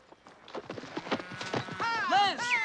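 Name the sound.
horse hooves galloping while being ridden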